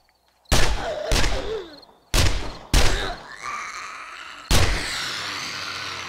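Gunfire in 7 Days to Die comes as five loud, close, separate shots spaced irregularly over a few seconds, each trailing off into a decaying echo.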